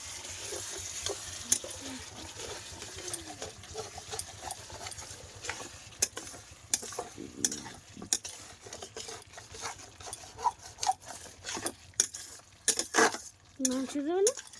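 Spice paste sautés in a pan for a chicken curry, with a low sizzle punctuated by irregular scraping and clinking of a spoon against the pan, while voices talk intermittently nearby.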